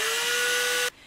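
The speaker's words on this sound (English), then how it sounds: "take my pine pieces and drill bit and drill straight through" A power drill bores straight through pine pieces, its high, steady whine running close and loud for almost a second before it cuts off abruptly.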